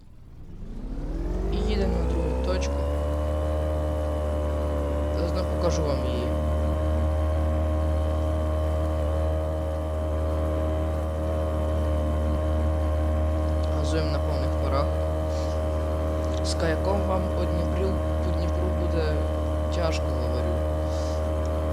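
Outboard boat motor in the Fishing Planet video game on the Dnipro river, a steady low drone with strong harmonic hum that starts up and runs continuously at constant pitch, with faint clicks and talk layered over it.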